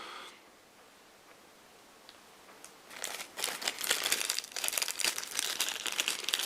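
Original paper wrapping around a set of colored tokens crinkles and rustles close up, starting faintly and then building into continuous, busy crackling for the last few seconds, with no talk.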